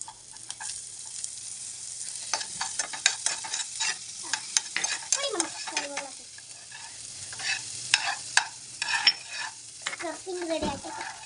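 Chopped garlic and onion frying in a pan, a steady sizzle with frequent scraping and stirring clicks from a utensil, close and continuous without talk.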